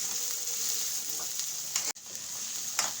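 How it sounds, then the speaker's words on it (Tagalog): Onions sauté in a hot pan for a chicken masala dish, giving a steady loud sizzle with stirring scrapes and a sharp clatter near the end, no talk. "Igigisa natin mabuti yung ating sibuyas."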